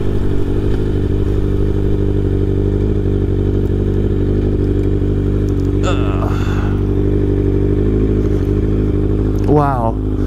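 A Kawasaki ZX6R motorcycle is being ridden, its engine a steady, even drone throughout with wind noise, while a voice briefly speaks over it twice.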